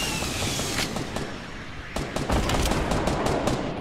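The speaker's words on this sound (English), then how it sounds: "meanwhile the other guy's shooting at us" Rapid bursts of gunfire in the Fortnite video game crackle loudly and nearly continuously, with a denser volley of sharp shots toward the end over steady game noise.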